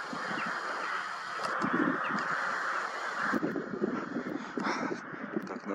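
Several crows caw repeatedly in a loose, overlapping chorus against steady background noise, some calls louder and nearer than others, from a flock in flight at night.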